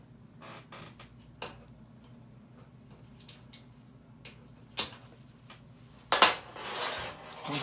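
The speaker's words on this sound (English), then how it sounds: "Now we're going to slice off the tip." A small blade slices the tip off a quill pen being prepared for writing a Torah, giving sparse, sharp clicks and scrapes in a quiet room, ending in a brief cluster of crisp cuts.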